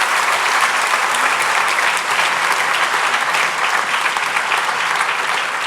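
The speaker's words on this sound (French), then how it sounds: "On peut applaudir Anthony Clève" Loud, steady applause from the audience at a university academic-year opening ceremony at UNamur in 2023, sustained clapping that fills the space without a break and carries no speech.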